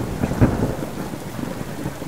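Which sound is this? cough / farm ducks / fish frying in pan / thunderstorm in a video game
thunderstorm in a video game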